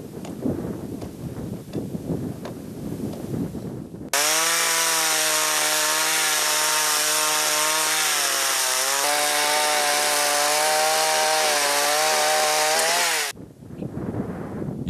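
A chainsaw cuts conifer logs from the taiga for building a house. A loud, steady engine whine runs for about nine seconds and drops slightly in pitch partway through as it bites into the wood, between quieter stretches of chopping and handling noise.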